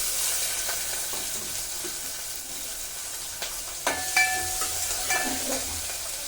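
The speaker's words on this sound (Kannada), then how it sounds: "ಈರುಳ್ಳಿ ನೋಡಿ ಹಾಕ್ತಿದ್ದೀನಿ ಒಗ್ಗರಣೆಗೆ" Chopped onion frying in hot oil as a tempering for a field bean curry, a soft continuous sizzle with occasional light stirring clicks, close but fairly quiet.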